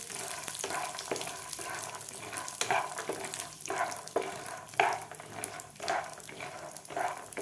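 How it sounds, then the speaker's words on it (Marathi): Peanuts roasting in a spoonful of oil in a pan over medium heat, the first step of a garlic chutney: a steady close sizzle and crackle runs throughout, broken by repeated scraping stirs. "पॅनमध्ये मी एक चमचा तेल घातलेला आहे तर यामध्ये आपल्याला सुरुवातीला शेंगदाणे भाजून घ्यायचे आहेत"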